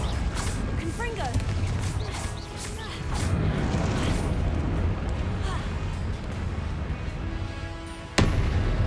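Confringo fire spells cast in a Hogwarts video game burst amid dense, continuous combat noise, with one sharp crack near the end. A voice speaks over the action.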